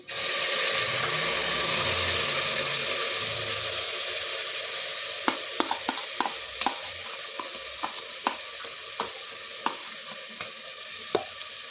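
Ground masala paste fries in a pan for palak rice with a steady, close sizzle, and a spoon taps sharply against the pan at regular intervals while it is stirred.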